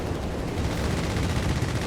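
Dense, continuous gunfire and battle noise from the Company of Heroes 3 strategy game, with machine gun bursts blending into a loud, steady wash of combat sound that runs through the whole moment without pause.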